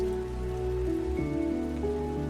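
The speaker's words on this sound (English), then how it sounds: "At first, a gentle shower of raindrops." Soft, steady patter of rain on a surface, with a low sustained hum and gentle tonal sounds underneath.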